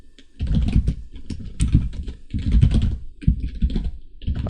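Code is typed on a computer keyboard in close, loud bursts of rapid key clatter, separated by brief pauses, with no voice over it.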